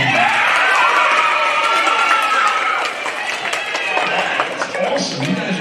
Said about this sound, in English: Big round of applause for Brittany Gaffone.